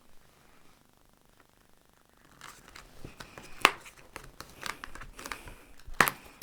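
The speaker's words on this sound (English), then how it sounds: "I'm just going to stick tape again on here to hold that in place." Tape pulled and pressed onto a chocolate gift box holding two bars, heard as close crinkling, peeling and tearing sounds with a few sharp rips, starting after a quiet opening and continuing unevenly.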